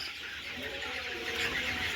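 Chickens cluck and chirp faintly on a small poultry farm raising colour broilers, a low steady flock murmur with no one talking.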